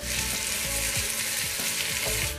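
Sliced potatoes fry in a hot pan with a dense, steady sizzle that stays loud and constant throughout, with occasional soft scrapes and clinks underneath.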